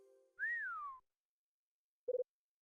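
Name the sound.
someone whistling in Hotel Dusk: Room 215 video game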